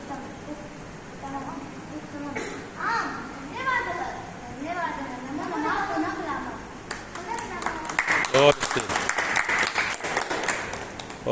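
An audience and chief guest clap at a Sanskrit conversation programme's closing ceremony. Speech carries the first part, then a burst of lively, close applause swells and continues to the end.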